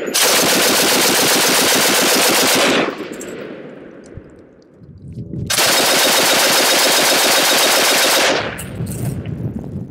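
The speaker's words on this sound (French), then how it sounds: "Cette mitrailleuse sera utilisée jusque dans les années 50 par l'armée française." A French machine gun firing 8 mm Lebel cartridges in two long sustained bursts, loud and close, each a dense rapid rattle of shots followed by echoing decay and a short pause between them.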